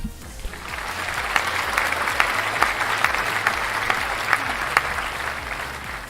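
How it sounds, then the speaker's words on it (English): A recorded applause sound effect: steady crowd applause, continuous clapping with a few sharper claps standing out, filling the whole stretch without voices. "Every time we hear the applause, everybody has to."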